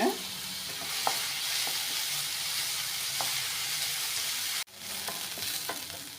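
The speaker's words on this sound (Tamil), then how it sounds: "வெங்காயத்தை கொஞ்சம் ப்ரௌனாக வதக்கி விட்டுக்கோங்க" Onions frying in coconut oil until brown for a spicy small prawn varuval. A close, steady sizzle carries occasional clinks from stirring, with a brief break near the end before the sizzle resumes.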